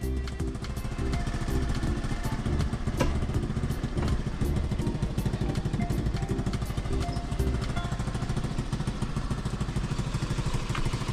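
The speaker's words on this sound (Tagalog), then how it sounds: "Ayan oh, bagong motor oh." A new motorcycle's engine runs steadily with a low, continuous rumble and some clatter, fairly close and loud throughout, with faint voices in the background.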